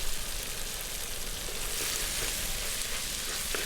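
Greens tossed into a pan of hot tempering oil hiss with a dense, steady sizzle, close and continuous for the whole few seconds, with no voices over it.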